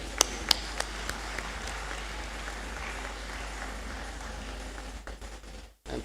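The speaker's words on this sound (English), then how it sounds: "A big clap for Abigail" An audience at a university academic awards ceremony applauds an award recipient, a steady crowd clapping with a few sharp near claps at the start, fading toward the end.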